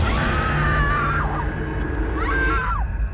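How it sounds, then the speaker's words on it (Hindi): A woman's bloodcurdling scream rings out in the night, two drawn-out wavering cries, loud and near, over a steady low rumble. "तभी अचानक हमारे कानों में एक दिल दहला देने वाली चीख टकराई।"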